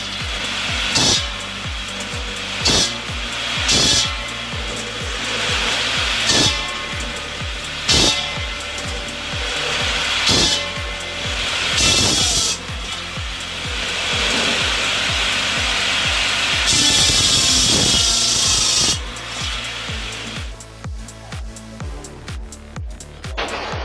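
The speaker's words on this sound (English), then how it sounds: "It turns firewood prep into a fast, almost effortless job." A homemade firewood processor cutting through logs, with repeated loud sawing and chopping strokes at a regular rhythm over a continuous mechanical drone, close by, ending in a quieter rattling stretch.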